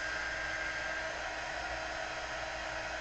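Heat tool blowing steadily to dry spots on a handmade card, a constant close whooshing hiss with no change in level.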